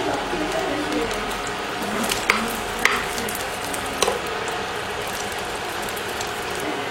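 Rice omelette frying in a pan over low heat, with a steady sizzle and a few sharp scraping clicks from a spatula as it is turned. A voice speaks over it.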